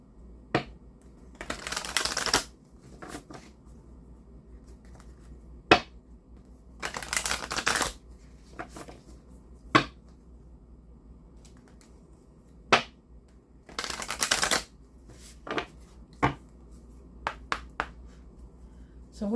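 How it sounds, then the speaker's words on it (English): Oracle cards being shuffled in quick bursts, several riffling rustles of a few seconds each separated by sharp snaps and taps of the deck, close and fairly quiet. "And then we're going to do a quick shuffle here."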